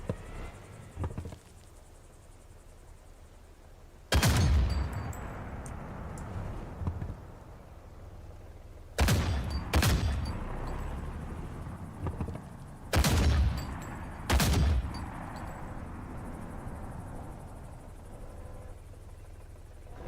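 Gunfire from a gun in a video game, sharp loud shots spaced out over a low droning background: one blast, a tight pair, then another pair, each with a short ringing decay.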